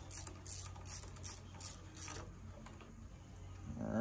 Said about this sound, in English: I'm using a quarter inch ratchet, so that's why it's a little harder